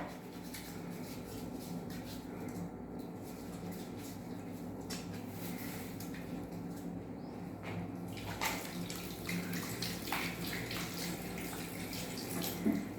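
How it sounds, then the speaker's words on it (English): A tap runs steadily into a sink while hands are rinsed under it in a meat processing setting, a continuous close splashing wash with slight shifts as the hands move, no voices. "now you need to rinse your hand with a fragrance-free soap solution"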